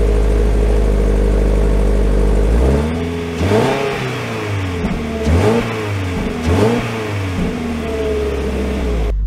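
A 2024 Toyota GR86 sports car engine idles loudly, then revs up in several sharp, rising sweeps, each dropping back down, close and powerful with no talking.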